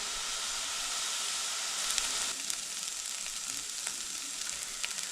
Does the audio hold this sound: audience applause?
no